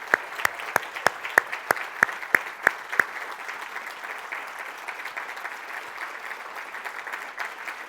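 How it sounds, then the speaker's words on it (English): An audience at a teaching awards ceremony applauds early career teachers, starting with a few sharp, distinct claps that spread into steady, moderately distant clapping from a crowd. "let's give them a round of applause"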